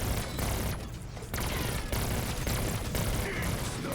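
Belt-fed gun firing nonstop in Black Ops 6 Zombies with a rapid fire attachment, a loud dense fusillade of rapid shots with only a brief lull, close and overpowering.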